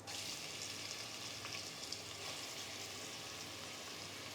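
Sliced onions hit hot oil in a pan on high flame while a whole-spice mutton curry is being made, giving a steady, close, hissing sizzle that stays even throughout with no talk.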